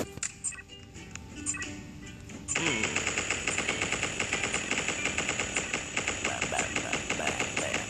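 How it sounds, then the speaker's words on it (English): A machine gun opens up after a couple of seconds of scattered clatter, then fires in one long, loud, rapid and evenly spaced burst of shots. "I like shooting with my machine gun, it's the best."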